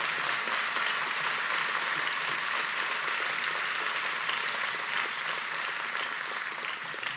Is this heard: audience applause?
yes